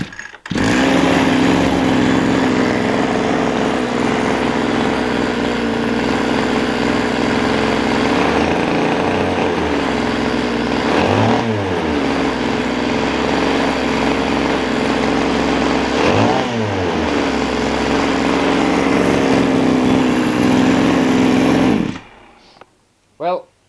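A recovered small two-stroke engine runs loudly and steadily at fairly low RPM for about twenty seconds, with a couple of brief pitch dips midway, then cuts off abruptly near the end.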